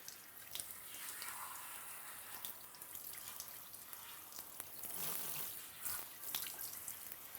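Tap water runs steadily into a sink while a hair system is wetted under it, a continuous hiss with shifting splashes and drips as hands work through the hair, no talk.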